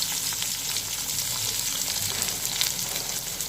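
Potato pieces fry in oil in a pan for a fish curry, giving a steady, close sizzle with soft crackling throughout and no talking.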